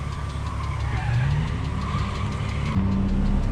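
A modified drift car with new performance upgrades runs at a drift track in Ljubljana, its engine droning steadily and loudly, rising slightly in pitch as it revs.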